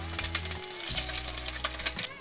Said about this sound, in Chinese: 入锅之后煎到两面都微微焦黄